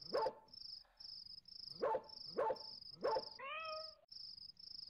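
Dog in the Foreign Creature video game, heard as four sharp bark-like bursts at a steady pace, close and loud, over a constant high insect-like electronic chirp, with a brief warbling tone near the end.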